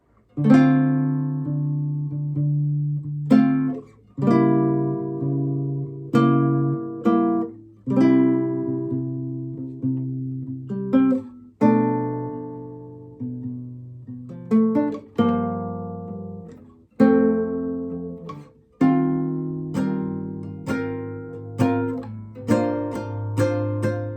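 Solo acoustic-style guitar plays the bridge of a song in strummed chords and plucked notes, each attack ringing out, close and moderately loud.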